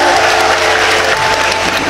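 A crowd at a Filipino political rally bursts into loud, dense applause. The clapping is sustained and uniform over a faint steady hum, with no speech.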